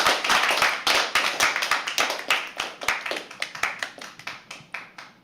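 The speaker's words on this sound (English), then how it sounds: "Start clapping." Audience clapping at a live poetry open mic, a fast, rhythmic run of close hand claps from a small crowd, loud at first and gradually thinning and softening.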